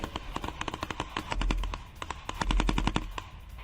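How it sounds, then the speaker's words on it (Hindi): Russian soldiers fire automatic weapons at a Ukrainian drone: rapid, uneven bursts of sharp gunshots crackle continuously, with heavier low thumps mixed in, heard from a moderate distance. "रूसी सेना ने ड्रोन पर की अंधाधुंध फायरिंग।"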